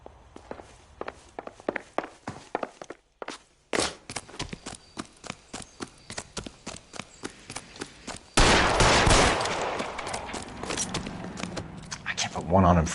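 Gunfire from the video game L.A. Noire: sharp, spaced shots crackle over voices and footsteps, then a dense, sustained volley of rapid fire erupts near the end, loud and close.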